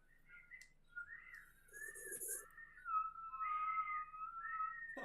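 A person whistling with the tongue, a wavering series of tones that slide and warble, sometimes breaking into two notes at once, close and fairly quiet with no talk.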